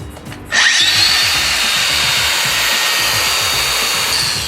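Makita DGA505 brushless 5-inch angle grinder switched on, a sharp rising whine as the motor spins up, then a loud steady high-pitched running hum held close to the microphone.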